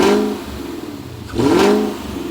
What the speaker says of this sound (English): let's see if it'll rev up